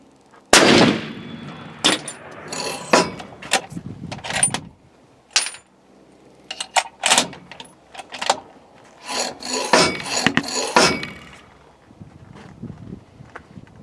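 A Mossberg Patriot rifle in .300 Win. Mag. fires a loud, sharp shot near the start, followed by a run of clattering, rasping handling and rubbing noises from the range bench, with no talk.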